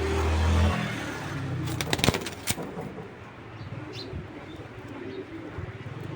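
An old-line, big-sized male racing pigeon gives soft, low cooing close by, starting after a loud low rumble and broken by a few sharp clicks.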